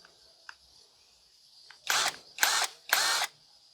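Three short ratcheting bursts from a Tecepo 19 mm hex socket wrench tightening a nut, each about half a second long and evenly spaced, following a faint click, close and fairly loud in an otherwise quiet room.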